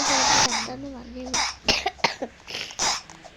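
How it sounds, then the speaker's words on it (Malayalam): Several short, sharp coughs burst out close by in an uneven cluster, following a stretch of voiced throat sound and mixed with a person's voice. "എനിക്ക് ഇടയ്ക്കിടയ്ക്ക് ചുമ വരും കേട്ടോ"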